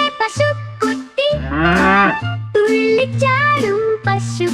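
In a Malayalam children's song, a sung voice imitates a calf's moo, with long, drawn-out tones that rise and fall over bouncy accompaniment, loud and up front.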